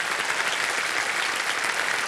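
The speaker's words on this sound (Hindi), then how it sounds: "तालियों के साथ स्वागत करते हैं" Studio audience applause on a quiz show set, an even, sustained roar of many hands clapping together, heard alone without talk.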